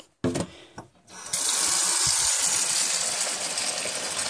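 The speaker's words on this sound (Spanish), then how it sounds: "Le echamos agua" Water gushes steadily into a container from about a second and a half onward, a loud, continuous pour after a few brief knocks, with no talking.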